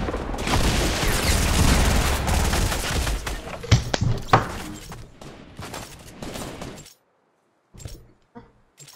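Rapid video game gunfire with bullets flying, dense overlapping bursts and loud shots that rattle on for several seconds, then cut to silence broken by a couple of isolated later shots.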